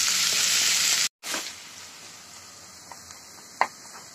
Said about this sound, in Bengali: এবার ব্রাউন কালার করে পেঁয়াজটা ভেজে নেব।